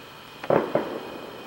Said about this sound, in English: Oh no, those are fireworks.